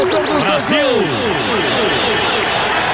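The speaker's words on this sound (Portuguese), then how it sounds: "Delirantemente aplaudido pelo público em Yokohama." A stadium crowd in Yokohama applauds and cheers a substituted Brazil player at the World Cup final, a broad sustained roar and clapping under excited commentary in Portuguese.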